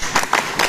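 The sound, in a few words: group clapping to a chant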